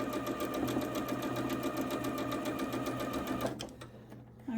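A sewing machine stitches quilt sashing in a fast, even mechanical whir close by, running steadily for over three seconds before stopping abruptly.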